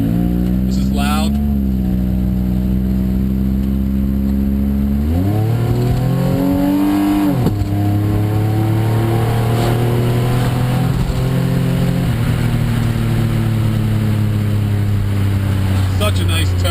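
A car with its Varex muffler exhaust open revs loudly in repeated rising pulls, the engine note climbing through gear changes with a deep, steady drone between them. Wind noise runs throughout.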